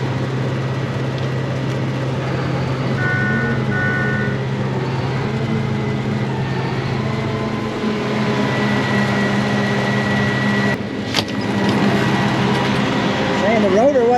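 A Case 8250 combine runs after repairs, a steady loud engine drone with a persistent low hum and brief tonal whines, continuing for the whole span while voices talk over it.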